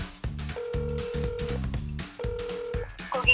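Telephone dialing and ringing: a sequence of electronic tones in bursts, with short tone clusters and two longer sustained beeps, fairly clear and close, with no talking.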